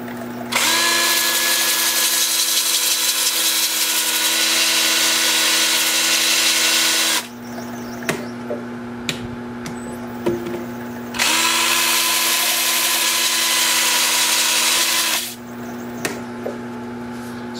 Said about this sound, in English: stand by for sanding